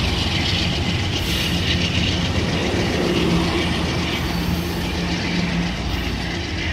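An Amtrak P42 locomotive leads a Pacific Surfliner train through Fullerton, its steady, loud rumble and clattering wheels on rail running continuously throughout at close range.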